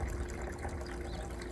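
Water runs back into a bucket in a continuous splashing trickle, fairly faint and close, with a low steady rumble beneath it.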